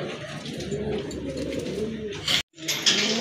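Pigeons cooing at a farm in Bangladesh, steady low cooing murmur from several birds nearby, with a brief dropout near the end and a few higher chirps.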